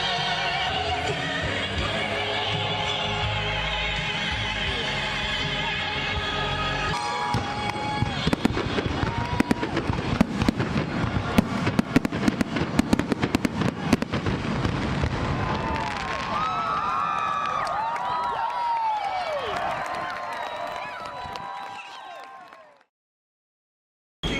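A night laser and fireworks show crackles and booms for several seconds over a murmuring crowd, with scattered bangs and fizzing bursts, ending with distant cheering and clapping.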